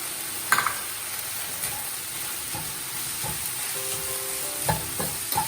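Bread idli mixture seasoned with garam masala, amchur powder and coriander leaves fries on high flame in a pan, giving a steady close sizzle broken by soft scraping thumps of a spoon stirring it.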